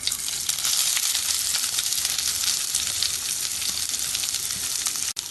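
Onion, green chilli, crushed garlic and ginger frying in a pan, a steady, close hiss of sizzling oil with faint stirring scrapes and a brief knock near the end.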